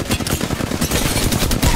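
Rapid bursts of automatic gunfire from an online shooter game rattle continuously, with dense overlapping shots close and loud against a busy battle background.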